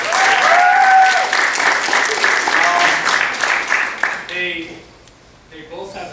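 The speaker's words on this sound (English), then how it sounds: "big round of applause" Applause at a school track awards event for the team that went to the state meet, loud sustained crowd clapping that fades out after about four seconds, followed by a voice speaking.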